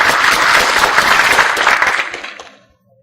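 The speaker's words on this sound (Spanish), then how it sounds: "Un aplauso, por favor." Audience applause for a visiting architect at a university event, steady dense clapping from a crowd that fades out over the final second.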